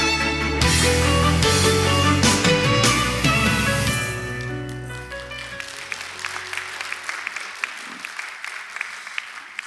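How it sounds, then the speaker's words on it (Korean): Audience applause welcoming the CJB Cheongju Broadcasting chairman at a bio conference in Osong, heard under loud fanfare music for the first four seconds; the music fades and the clapping continues alone, thinning to scattered claps. "회장님 나오실 때 여러분 큰 박수로 맞아주시기 바랍니다."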